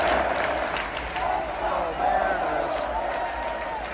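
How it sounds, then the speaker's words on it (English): Seattle Mariners fans cheer and applaud in a large crowd, a broad, steady roar lasting the full few seconds with rising swells. "That cheering is the sound of Mariner fans after the team's ALDS loss to the Houston Astros last weekend"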